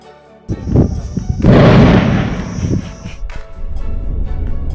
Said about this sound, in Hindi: आसपास कोई धमाका हुआ है, जिसकी वजह से यह बच्चा अचानक चौंक गया है।